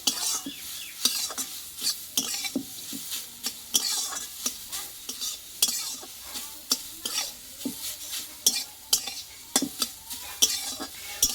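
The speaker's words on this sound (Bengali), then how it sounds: "এই চাট মশলাটা দিয়ে আমি আরও কিছু একটু নাড়াচাড়া করে দেবো" Chana dal filling with chaat masala being stirred in a pan: repeated sharp scrapes and clinks of a utensil against metal over a soft, steady sizzle, close and fairly loud, with no talking.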